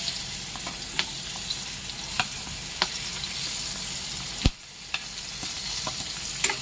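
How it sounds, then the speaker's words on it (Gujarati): Onions frying in hot oil for a Kathiawadi peanut bhajiya curry, a steady close sizzle broken by occasional sharp clicks of a spoon stirring against the pan. "હવે ડુંગળીને તેલમાં થોડી વાર ચડવા દઈશું."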